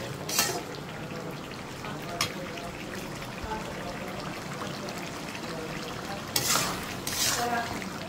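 Bitter gourd stir-fried in a pan gives a steady close sizzle, broken by a few sharp scraping clacks of the spatula against the pan.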